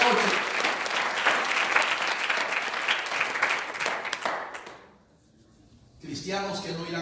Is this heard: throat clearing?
no